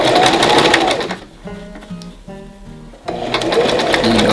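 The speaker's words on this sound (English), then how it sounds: "There should be a variable speed in the pedal on most sewing machines." A sewing machine stitching a simple fabric face mask, its motor whirring loudly, then a slower stretch of short stop-start bursts as it runs forward and back, then full speed again.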